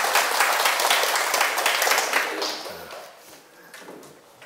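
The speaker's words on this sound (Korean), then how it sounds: "큰 박수 부탁드립니다." An audience at a Sunday Buddhist lecture breaks into loud, dense applause that stays full for a couple of seconds, then tapers off into scattered claps and fades.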